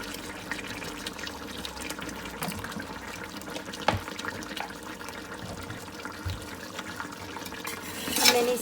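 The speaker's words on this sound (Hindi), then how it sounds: "अब मैं इसके अंदर थोड़ा सा ऑयल डालूंगी" Cooking oil is poured into a pot of beef paya whose water has nearly cooked off, giving a continuous soft liquid hiss with a brief louder sizzle right at the end.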